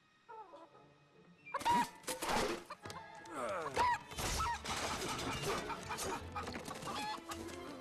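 Video game hens in Fable III cluck and squawk loudly in bursts over a busy, clattering background after a quiet start, with some crashing impacts.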